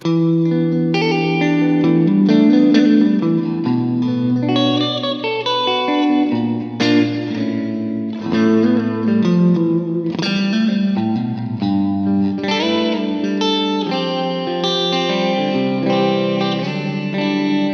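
PRS electric guitar with both humbuckers split to single-coil mode, played as a continuous run of strummed chords and picked notes with a bright, clean-to-slightly-driven tone and light chorus-like shimmer.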